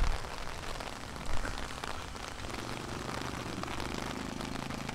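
Steady tropical rain pours down in a dense, continuous hiss of drops striking surfaces, even and fairly loud throughout with no voices.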